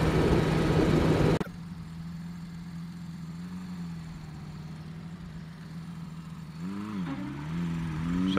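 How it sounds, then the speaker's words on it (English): A motorcycle engine idles a little high with a steady low throb after a brief loud burst, then revs slightly near the end. "Idling a little high."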